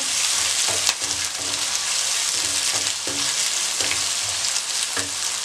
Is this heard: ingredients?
yes